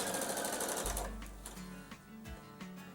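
A sewing machine piecing a quilt block with an invisible quarter-inch piecing foot runs in a fast, even whir for about a second, then stops, leaving a low thump and a few light mechanical clicks.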